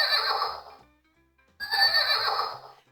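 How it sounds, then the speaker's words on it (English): A brown horse whinnies twice, loud and close, each neigh lasting just under a second with a short quiet pause between. "Neigh, neigh, says the horse."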